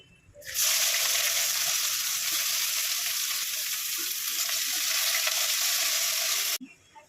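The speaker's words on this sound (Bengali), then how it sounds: "এবার আমি পেঁয়াজটা ভেজে নেব।" Onion dropped into hot oil with whole spices such as bay leaf, cinnamon, cardamom and clove, bursting into a loud, continuous close-up sizzle that holds steady for about six seconds, then cuts off abruptly.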